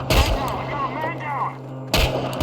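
Gunfire in the video game Chernobylite comes as loud bursts at the start and again near the end, with a voice talking in the quieter stretch between them.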